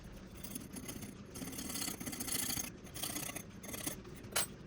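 A hand file rasps back and forth across the broken end of a steel clock mainspring to deburr it, giving close, steady scraping strokes with a sharp catch near the end.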